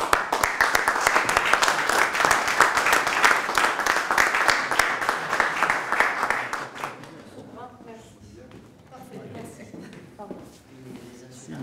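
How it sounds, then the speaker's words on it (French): Audience applause for honorary medal recipients at a volunteer awards ceremony in Monaco, a dense, loud burst of clapping for about seven seconds that then fades into scattered claps and murmuring talk. "On peut vous applaudir."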